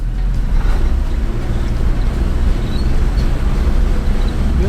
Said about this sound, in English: So that noise you heard was the traction control system working to distribute torque where it needed to go.